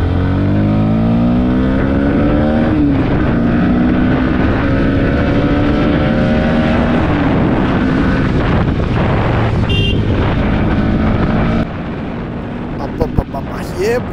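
A 2025 Bajaj Pulsar NS160 motorcycle's exhaust drones loudly while riding, revs rising and falling through gear changes, before the engine note drops away near the end, leaving quieter road noise.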